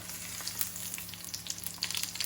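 Dauphinoise potatoes fry face down in a pan, giving a steady, soft crackling sizzle with faint pops close by, no voices.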